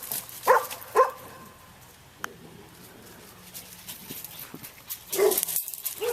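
A dog barks at a fence in a yard, a few loud sharp barks at the start and again near the end with quieter gaps and faint noises between.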